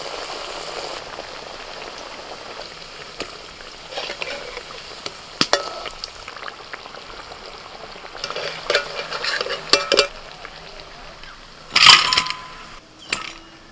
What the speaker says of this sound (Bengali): একদম আস্তে আস্তে জাল দিয়ে ভাজতে হবে